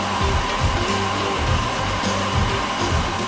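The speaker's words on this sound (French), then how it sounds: "Je vais utiliser ce sèche-cheveux si tu es d'accord." A hair dryer runs close by with a steady, loud whooshing hum and slight wavering pitch throughout.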